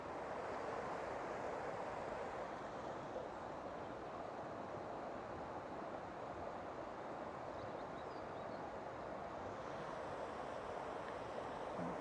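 Water pouring over a weir in Mount Usher Gardens, a steady broadband rush that holds even and unbroken throughout, with no voices over it.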